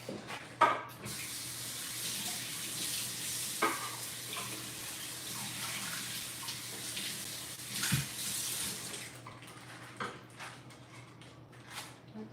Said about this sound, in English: I'm gonna wash off this cutting board